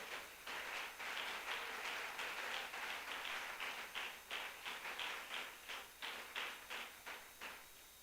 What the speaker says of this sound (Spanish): ¿Qué tal si le damos un aplauso a ese Dios precioso?